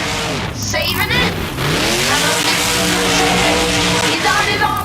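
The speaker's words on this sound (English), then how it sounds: "Bigfoot's engine is the loudest one here tonight" Bigfoot monster truck engine roaring loud and steady in BeamNG, the revving pitch sweeping up and down over nearly five seconds, with a voice talking over it.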